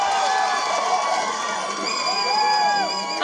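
An audience at a movie first-look launch event cheers and whoops for a performer, a steady wash of crowd noise with scattered high shouts, fairly close and sustained throughout.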